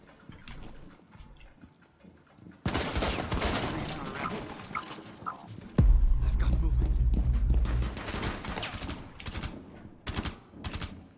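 In Rainbow Six Siege, gunfire rips through a wall in sharp, loud bursts, followed by a heavier sustained volley with rumbling impacts. Voices talk in between the shots.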